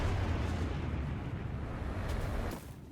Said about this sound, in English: that was cannons of somebody